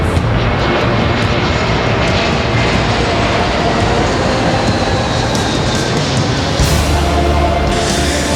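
Airplane engine droning steadily and loudly inside the cabin as the aircraft flies, a dense continuous roar with no break.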